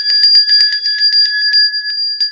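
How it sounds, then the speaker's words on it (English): A small bell on a weather show rung repeatedly in quick succession, bright metallic dings struck close and loud, about a dozen strikes over two seconds with no talking. "Where the hell is the bell again?"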